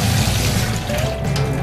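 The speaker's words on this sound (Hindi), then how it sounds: "इससे पानी ज़्यादा फैलता नहीं है इस तरह, और ये चारों तरफ फैल के निकलता है" Water runs steadily from a kitchen tap fitted with a spreader attachment in an Indian home kitchen, a close, continuous splashing rush that lasts throughout with no talk.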